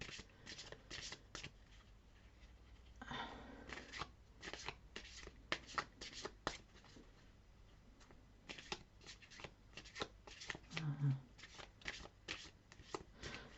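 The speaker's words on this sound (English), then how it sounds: "I'll pull us a moon card" Tarot and moon oracle cards are shuffled by hand in quick, crisp riffles and shuffles, a close series of papery bursts with short pauses between them.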